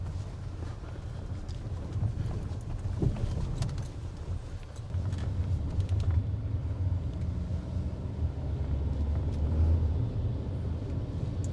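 Car driven using hand controls instead of pedals, a steady low engine and road rumble from inside the cabin with light wind noise and occasional soft knocks, moderately quiet throughout.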